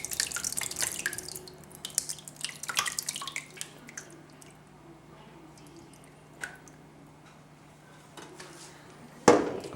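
Whey drips from Bulgarian goat cheese curds held in cheesecloth, a flurry of wet drips and splashes at first that thins to faint scattered drops, followed by a sharp handling knock at the end.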